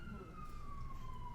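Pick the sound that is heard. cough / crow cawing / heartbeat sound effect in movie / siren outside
siren outside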